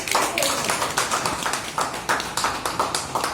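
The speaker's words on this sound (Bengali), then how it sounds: "মীনাক্ষী নাস্তার তৃতীয় হাততালি আর একটু জোরে হবে।" A group at a cooking programme clapping steadily and fairly loudly, an even burst of applause lasting the whole time.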